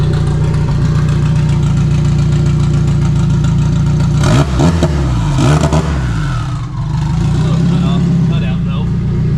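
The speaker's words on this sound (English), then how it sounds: "So, sounds awesome. Turbo's spinning." A turbocharged K24-swapped Toyota MR2 engine runs steadily at idle with a low rumble, briefly revving twice in the middle, while people talk over it.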